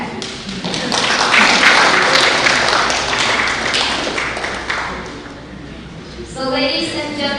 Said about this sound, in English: So once again, clap for that.